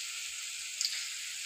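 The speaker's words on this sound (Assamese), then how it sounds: "এনেকৈ গোটাই গোটাই ভাজি দিম" Whole unpeeled garlic cloves, trimmed at both ends, fry in hot oil, giving a continuous soft hiss and sizzle with one brief small pop, heard close and alone.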